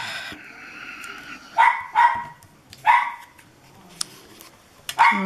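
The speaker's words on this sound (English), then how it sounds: "There's my dogs going berserk again." Several dogs barking in short bursts, some overlapping yips and sharper barks, fairly close and loud over a quiet room, with no talking.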